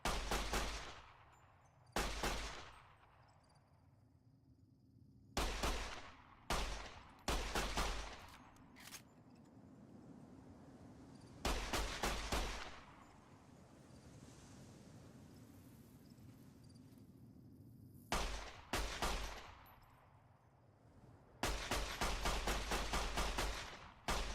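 Repeated bursts of rapid gunfire from a weapon in Fallout New Vegas, several close, loud volleys separated by short pauses, with a low ambient rumble between them and no talking.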